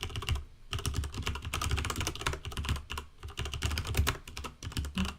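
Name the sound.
typing on a computer keyboard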